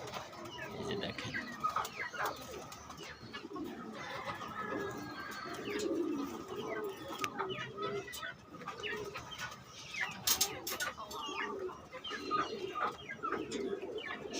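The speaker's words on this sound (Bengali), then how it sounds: "সব ইয়ং কবুতর দেখাচ্ছি" Young racing pigeons coo softly in a loft, their low repeated burbling calls overlapping at moderate distance, with faint chirps and a few sharp background knocks.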